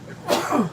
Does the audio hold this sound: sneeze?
yes